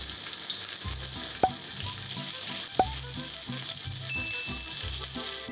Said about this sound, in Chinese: 然后放入鸭胸，鸭胸皮向下， 煎到鸭油流出